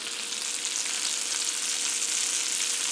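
Potatoes seasoned with salt, pepper and chili powder fry in a pan with a steady, loud, hissing sizzle that runs unbroken throughout, with no voices.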